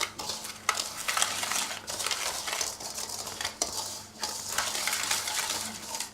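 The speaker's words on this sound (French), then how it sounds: "Maintenant, je remue le sucre avec les jaunes." Sugar and egg yolks are stirred in a bowl, a close, quiet run of rhythmic scraping and clinking strokes of a utensil against the bowl, with no talking.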